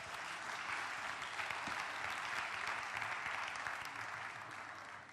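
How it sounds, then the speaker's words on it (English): Steady, dense applause from a live audience at a cocktail bartending competition, continuous and fairly distant, holding evenly for several seconds before tapering slightly at the end. "Big round of applause."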